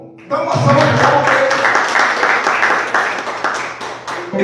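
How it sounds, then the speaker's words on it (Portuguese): A church congregation claps together in a loud, steady burst that starts abruptly, mixed with voices and a low organ-like tone, then tapers off near the end. "Deus é misericordioso, dá uma salva de palmas."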